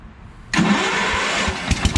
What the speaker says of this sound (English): Look at that, starts right up.